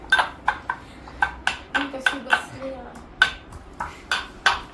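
Pounding in a kitchen mortar, a steady run of sharp, ringing metallic strikes at a quick, slightly uneven rhythm, close and fairly loud, with a brief murmur of voice in the background.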